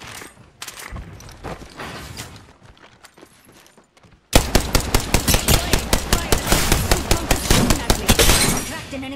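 Rapid bursts of automatic gunfire in the Apex Legends battle royale game, first scattered and quieter, then a loud sustained volley of evenly spaced shots in the second half.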